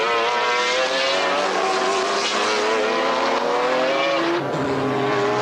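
Onboard engine of a GT race car at Jarama in the 1995 BPR Global GT Series, loud and continuous, with strong harmonic tones climbing through the gears and a brief dip near the end, no talk.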